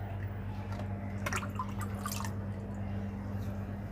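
A clay mudpot lifted from fermented rice water drips in a brief cluster of splashy drops and trickles, close, over a steady low hum.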